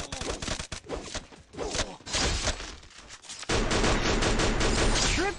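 Rapid gunfire bursts from the mobile battle-royale game Free Fire, loud and dense, with a sharp burst early on and sustained heavy shooting building toward the end.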